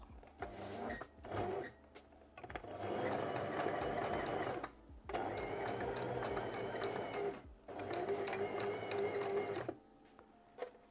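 A sewing machine runs a straight seam 7 mm from the edge of a jacket in quick stitching bursts, broken by brief pauses, close and fairly quiet.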